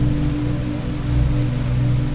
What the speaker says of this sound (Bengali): বর্ষার সময় হালকা হালকা বৃষ্টি পড়ছে